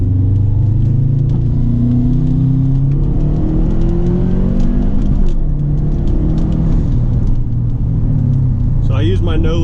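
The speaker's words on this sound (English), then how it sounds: "Let's try a second gear pull here." Subaru WRX fitted with a Cobb cold air intake pulling hard in second gear, a loud continuous engine roar rising in pitch as it revs up, heard from inside the car.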